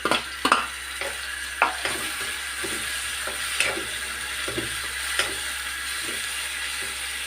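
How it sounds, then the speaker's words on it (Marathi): Chopped tomatoes go into a pan of browned onions frying for a Maharashtrian val usal, giving a constant sizzle under repeated sharp scrapes and knocks of a spoon stirring against the pan, close by with no talk. "आता आपण तिथे टोमॅटो टाकूया।"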